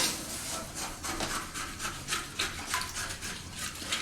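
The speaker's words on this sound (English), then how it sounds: "Scrub all of that up underneath." Scrubbing a toilet in a VR housekeeping cleaning game, heard as soft, uneven rubbing strokes that come in short repeated bursts at moderate level, with no talk.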